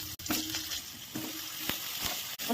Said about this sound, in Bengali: এখন পটলটা ভেজে নেবো।